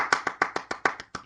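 A single person claps in an even, brisk rhythm, about nine sharp claps in just over a second, close and clear with no talking.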